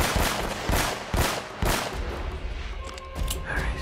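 Sniper rifle shots in Uncharted: Drake's Fortune, four loud, evenly spaced cracks in quick succession, followed by quieter scattered gunfire and noise.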